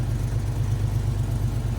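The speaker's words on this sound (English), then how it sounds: "So we're idling right here," A Chevrolet S10 pickup engine idles steadily at about 950 rpm, a close, loud low rumble with an even, continuous pulse and no talking over it.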